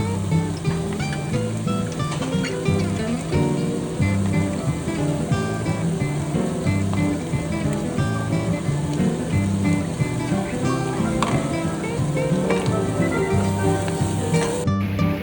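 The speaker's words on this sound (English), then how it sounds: "I'm adding in my garlic, and I'm gonna let that cook for about a minute" Garlic sizzles in a skillet, a constant close frying hiss that continues steadily on its own with no pauses.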